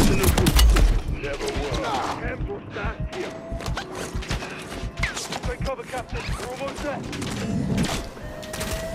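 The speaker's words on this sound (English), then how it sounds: "Stop shooting me so I can shoot you." Rapid bursts of gunfire in the Call of Duty Modern Warfare 3 video game crack through a busy in-game battle soundscape, with repeated shots and fusillades layered over near-continuous mechanical clatter and ambient combat noise.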